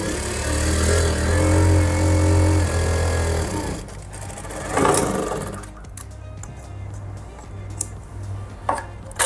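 A sewing machine stitches the front seams of an Afghani salwar, running in a steady, loud motor hum for a few seconds before stopping, followed by quieter handling clicks and rustles.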